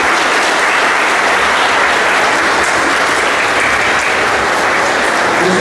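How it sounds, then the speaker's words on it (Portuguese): A church congregation at the end of a Catholic mass bursts into loud, dense applause that carries steadily from start to finish, many hands clapping together in a packed nave with no talking over it. "Uma salva de palmas para você que vê a missa."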